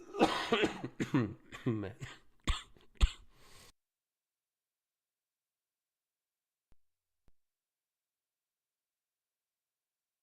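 Someone talks close to the microphone and breaks off with two sharp coughs, followed by near silence.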